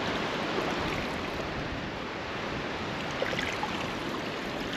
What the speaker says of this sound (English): The sound of the ocean, so nice.